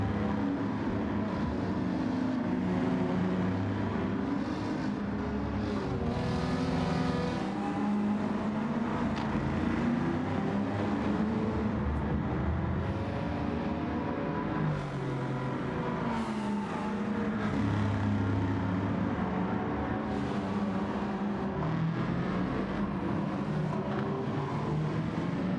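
Several car engines, including a Honda and an AMG, rev and drone loudly and continuously, their pitch rising and falling as they build and ease off.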